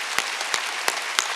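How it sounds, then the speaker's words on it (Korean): A church congregation at a Sunday worship service claps in four slow, evenly spaced beats over a continuous hiss of room noise. "박수 치려면 세게 쳐요."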